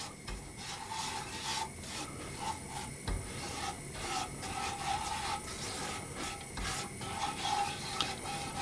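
A spoon scrapes and rubs around a pan of brown sugar on the heat, a steady close grinding stir with small repeated strokes and no talking.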